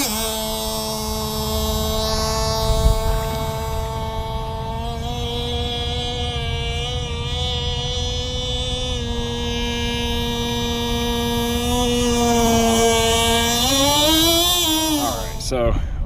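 A Micro Burst 21 RC boat's nitro engine runs at a steady high-pitched whine for about sixteen seconds, close and loud, with its pitch rising briefly near the end before cutting off.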